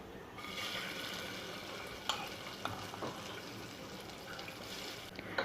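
Broken basmati rice frying in ghee inside a pressure cooker, a dense continuous sizzle with a few sharp scraping clicks of stirring, close and moderately quiet.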